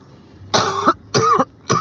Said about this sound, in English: This cough is very dry.